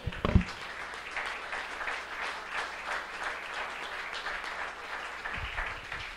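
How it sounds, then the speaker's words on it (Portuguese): A church congregation bursts into steady applause that carries on evenly throughout, moderately loud in a reverberant hall, with a few thumps at the start and end. "Quem pode falar amém com palmas ao Senhor?"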